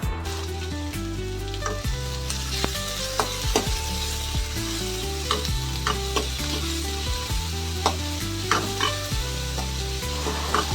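Onions, green chillies and curry leaves fry in hot oil, giving a dense sizzle close by with frequent clicks and scrapes from stirring throughout.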